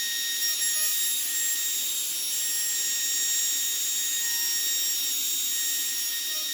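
Trim router cutting into a wooden sign, heard as a steady, fairly quiet hiss with a faint motor whine that holds unbroken throughout with no talking.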